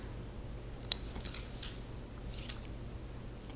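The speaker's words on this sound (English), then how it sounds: "You have to pull from both ends, and it'll click to different dimensions." A retractable USB charging cord for an iPod Touch gives a few small, sharp clicks as its ends are pulled apart, faint and close against a quiet background hum.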